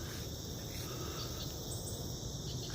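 Honey bees at two newly bought hives outdoors, a continuous faint high buzzing drone with a steady insect-like hum and no talking.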